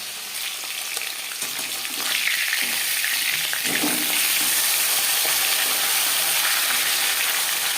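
Tilapia fish pieces frying in hot oil in a pan, a steady bright sizzle that grows louder after a couple of seconds and holds close and continuous, with no talking.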